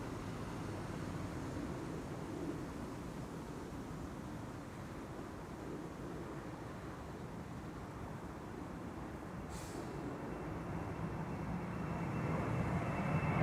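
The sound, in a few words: Embraer airliner departing Schiphol runway 24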